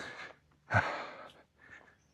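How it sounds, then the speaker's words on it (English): Winded, heavy breathing of a person hiking up a slope at Cape D'Aguilar in Hong Kong, carrying a backpack of camera lenses: a few close, ragged panting breaths with short pauses. "I know I'm sounding so winded and panting because I'm navigating the slope."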